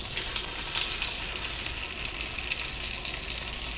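Round sabudana vada patties fry in oil over medium heat, giving a bright, continuous sizzle with crackling spits near the start, then a steady, close hiss that eases slightly toward the end.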